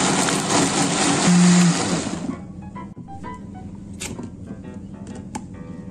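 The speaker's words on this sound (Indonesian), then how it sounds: "ini langsung aja kita blender sampai lembut" A blender roars loudly for about two seconds blending corn batter with eggs, then cuts off, leaving quiet kitchen clatter and small taps.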